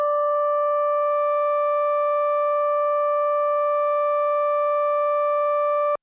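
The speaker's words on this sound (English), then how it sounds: "Let's try and turn operator 2 into something more like a saw wave." Steady two-operator FM synth tone from a Liven XFM, with operator 2 shaped toward a saw wave, holding one bright sustained pitch with stacked harmonics at an even loudness for about six seconds before cutting off abruptly.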